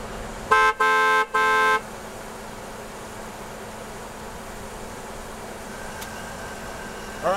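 A car horn blares three times in quick succession near the start, long steady tones, then a quieter stretch of low road rumble follows.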